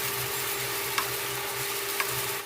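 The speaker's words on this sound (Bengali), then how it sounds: "চালটাকে একটু হালকা হাতে ভেজে নিতে হবে।" Basmati rice coated in ghee fries in a pan with a steady, close sizzle, and two faint stirring scrapes stand out briefly. No one talks.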